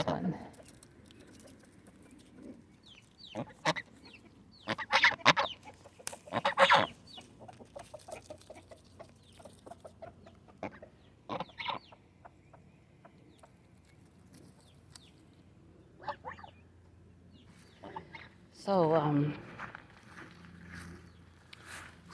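Chickens feeding along the edge of a pen, poking their beaks through, give scattered soft clucks and sharper squawks among patter and rustling, with brief bursts standing out over quiet background.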